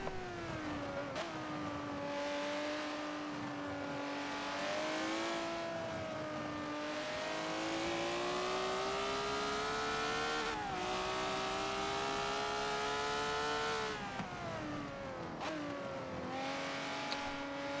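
Race car engines in Forza Motorsport 7 during a late lap of a 20-lap classic series race: a steady, loud engine drone whose pitch climbs and drops through gear changes, with brief lifts and renewed acceleration, no talking.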